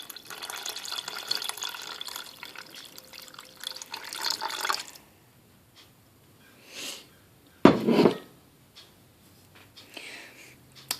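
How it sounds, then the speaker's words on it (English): Water pours into a soup pot for vegetable beef soup, a steady running splash for several seconds that stops abruptly, followed by a few brief clinks and a short louder splash. "I'm going to add some water to that."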